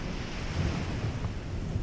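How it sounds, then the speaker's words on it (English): Ocean surf washing up onto a sandy seashore, a steady broadband rush of water and wind that holds for the full length with no clear break, close and moderately loud. "Now watch as a rushing wave comes forward towards you, washing over this message"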